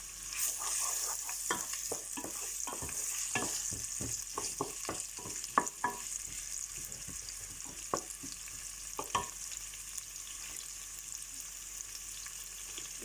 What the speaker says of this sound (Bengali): তেল গরম হয়ে গেছে পেঁয়াজ দিলাম পেঁয়াজ আর রসুন একসাথে দিয়ে